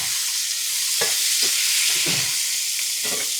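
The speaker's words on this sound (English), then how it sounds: "I'm going to go ahead and dump those beans in there." Green beans, home-canned, fry with browning onions in a pan, giving a steady close hiss while a utensil stirs them with several soft scraping knocks.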